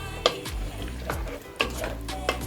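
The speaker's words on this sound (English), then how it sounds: "We stir." Liver frying in oil in a pot is stirred, with a steady sizzle under repeated scraping strokes of a utensil against the pan, close and fairly quiet.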